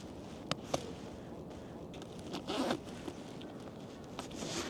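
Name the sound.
unzipping PGYTECH OneMo camera backpack zipper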